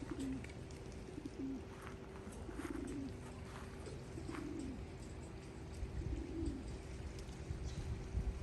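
Racing homing pigeons coo softly in a few low, repeated phrases on a training day, set against steady outdoor background noise with no talking.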